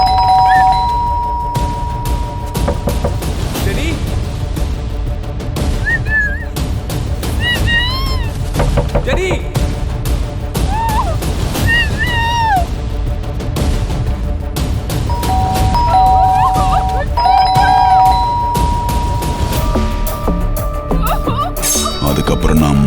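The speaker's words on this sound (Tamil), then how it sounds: "ஒரு காலிங் பெல் சத்தம் கேட்டுச்சு." A calling bell rings in a tense scene of a Tamil thriller film, chiming tones mixed into loud dramatic music with voices and heavy booms throughout.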